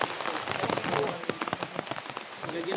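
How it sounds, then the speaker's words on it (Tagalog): Heavy rain falls hard and continuously, with dense close patter and sharp drops striking a surface, and a faint voice in the background. "Kasi malakas po ng ulan na."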